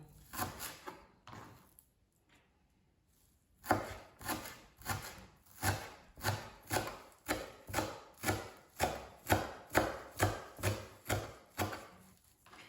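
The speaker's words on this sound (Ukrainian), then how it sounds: "І нарізаємо зелень." Fresh dill and parsley chopped on a board with a knife, a short burst of cuts, a pause, then a long run of steady rhythmic chops, close and clear with no talk.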